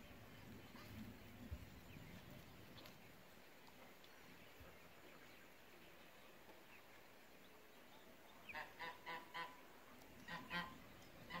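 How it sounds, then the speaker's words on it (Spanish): Farm ducks or geese honk and quack in a short burst of several calls near the end, over steady rural background noise, with no talk. "Allá van los patos."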